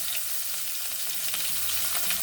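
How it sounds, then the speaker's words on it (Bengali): Chopped onions sizzle in hot oil already seasoned with cumin, bay leaf, cardamom and cinnamon, a steady close crackle with faint stirring and no talk. "পেঁয়াজগুলো ভালো করে ভেজে নেব।"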